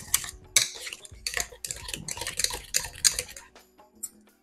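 A utensil scrapes and clinks against a bowl while seasoned mashed potatoes are stirred, giving an uneven run of close, soft knocks and scrapes that ends with a few isolated taps.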